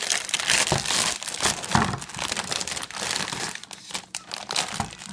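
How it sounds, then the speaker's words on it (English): A plastic motherboard bag is torn and crinkled open by hand during a PC build, a dense, continuous crackling and rustling up close, loud and uneven for several seconds with no talk. "let me rip this motherboard bag open"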